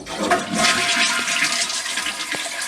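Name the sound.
toilet flushing as it is drained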